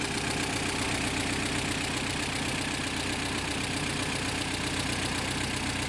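A Honda CR-V with a B20 VTEC engine runs loud and constant on a dyno while misfiring and running too rich, a dense steady engine roar with no voices.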